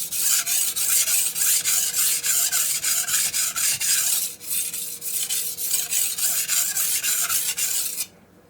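A blade is sharpened on a Morihei 4000 whetstone, giving a close, steady rasping scrape in quick back-and-forth strokes that runs for about eight seconds before stopping abruptly.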